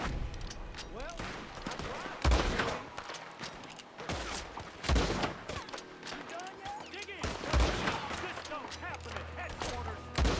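Rifle shots crack in repeated bursts in Red Dead Redemption 2, some rapid and overlapping, with a voice talking underneath amid game-like effects.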